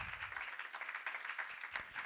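A church congregation claps hands together during a Spanish-language service, a brief, soft, fairly distant patter of many hands in loose rhythm.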